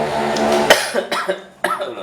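A single sharp cough rings out near the start, followed by a second burst of coughing about a second later, close and loud.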